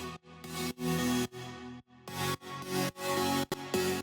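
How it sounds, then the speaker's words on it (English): A wide, chorus-thick saw synth lead built in Serum plays a choppy phrase of sustained notes broken by short gaps, bright and buzzy, heard alone. "Then we have the next main saw that I made with Silent as well, but this one is like way more wider"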